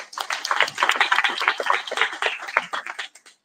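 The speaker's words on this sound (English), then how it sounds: "Let's give them a hand clap as well." An audience at a live event claps for about three seconds, a dense patter of many hands that stays fairly steady and thins out toward the end, with no talking over it.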